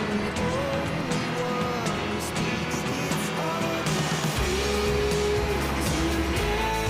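Sports cars racing in the 1998 PS1 game Max Power Racing, with a steady loud engine drone, shifting pitch as gears change, and tire squeals layered over game music.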